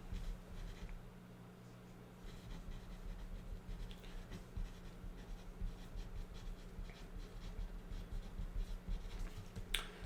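A pen scratches across paper, writing out character notes for a tabletop role-playing game, heard as faint, continuous strokes over a low background hum.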